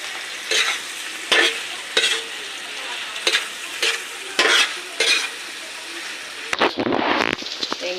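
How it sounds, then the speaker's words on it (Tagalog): Argentina corned beef sizzles in a hot pan while being stirred, with a steady frying hiss and several sharp scraping strokes of a utensil against the pan, close and loud. "Konting gisa-gisa."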